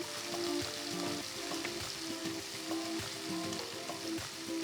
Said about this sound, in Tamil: பொடிசா நறுக்கின 2 வெங்காயத்தை சேர்த்து நல்லா வதக்குங்க